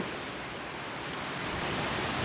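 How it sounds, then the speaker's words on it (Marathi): Heavy rain pours down on crops, banana plants and trees, a dense, steady hiss of downpour that holds constant and swells slightly louder toward the end, with no voices. "फार पाऊस आहे बरं का हा काहीच दिसत नाही याला आमचं भरपूर पाऊस आहे"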